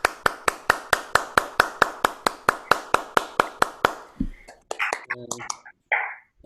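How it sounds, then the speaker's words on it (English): Evenly spaced, sharp hand claps beat out a steady rhythm for about four seconds at a small meet-and-greet gathering, then stop and give way to soft voices and a few scattered noises. "So one more round of applause."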